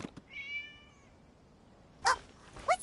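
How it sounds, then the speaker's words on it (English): A cat meows once in the Genshin Impact video game, a clear rising-falling call, then two short bright game effect tones follow after a pause in an otherwise quiet scene. "It was just a cat."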